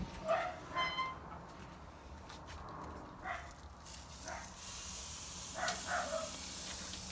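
Seasoned lobster tails sizzle on a preheated outdoor grill with a soft, steady hiss that swells toward the end. A dog barks a few times nearby.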